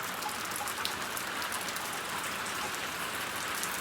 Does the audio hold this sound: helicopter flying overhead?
no